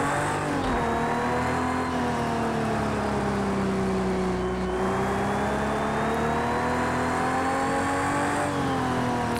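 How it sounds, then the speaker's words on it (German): A Ferrari 330 P4 race car engine roars at full throttle in Project CARS 2 at Laguna Seca. It holds a loud, continuous note that dips and climbs in pitch as revs change, heard close and alone without talk. "Und mit einem Schlag aufs Vollgas"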